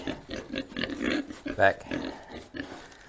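A pig grunts and snorts repeatedly in a wet stall, with short rough bursts close by and one sharper squeal-like grunt in the middle.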